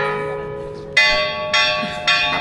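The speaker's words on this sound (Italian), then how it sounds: "Le campane!" Church bells ring loudly and close, with three strong strikes about half a second apart, each leaving a long, shimmering tone that hangs in the air.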